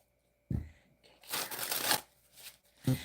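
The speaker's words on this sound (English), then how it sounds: "what is up with all the shuffling?" Tarot cards being shuffled by hand in two bursts, a long rustling riffle in the middle and short shuffles at the start and end, close and fairly loud, with no talking.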